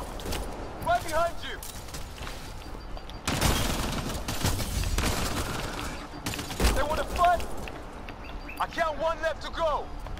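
Bursts of gunfire in the video game Mass Effect Andromeda, some long sustained volleys, with people talking over the action throughout.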